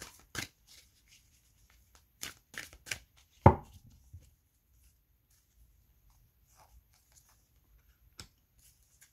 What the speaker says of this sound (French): Je vais vous prendre deux cartes ici pour les scorpions